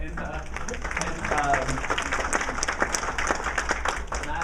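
An audience at a community infrastructure event claps in a moderate round of applause, dense and steady, with voices audible beneath the clapping.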